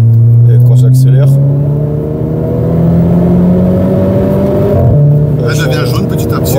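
A Renault Clio 4 RS Trophy with its 220 hp engine, a loud sustained revving drone that rises and shifts in pitch during acceleration, heard close up inside the car.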